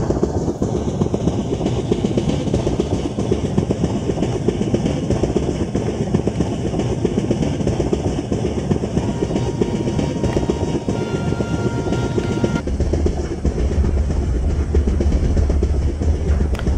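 The Chennai–Nizamuddin Rajdhani Express runs near 100 km/h, a dense continuous roar of wheels and rails with a steady hum, heard from the locomotive cab and loud throughout, without talk.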